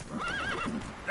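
Roach, the horse in The Witcher 3: Wild Hunt, lets out one clear, close neigh that rises and wavers for about a second, ending with a short snort or hoof sound.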